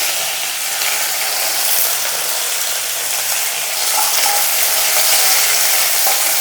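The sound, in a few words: curry leaves frying in oil with mustard and chillies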